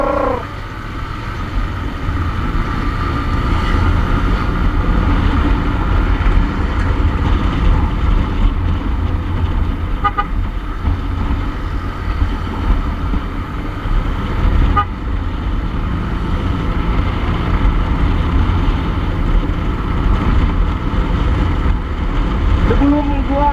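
A Honda ADV150 scooter engine with an upgraded CVT hums steadily and strains through a long uphill climb, loud and close, with a voice talking over it now and then.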